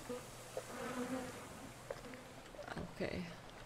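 A mosquito buzzes in the horror game Conarium, a thin, wavering insect drone that rises and falls close by, with a few brief knocks and bursts of noise around it.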